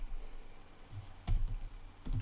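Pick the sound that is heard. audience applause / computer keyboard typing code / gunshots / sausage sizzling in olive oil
computer keyboard typing code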